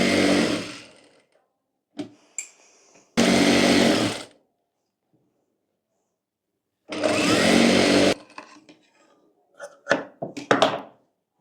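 A sewing machine stitches fabric for a ladies' night suit in loud bursts of a few seconds each, separated by silences and small handling clicks and knocks.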